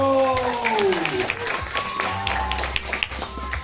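Audience applause at a circus show in a zoo, a dense, steady patter of many hands close by with a few sharp individual claps, carrying on for a few seconds under loud harmonic tones and background voices.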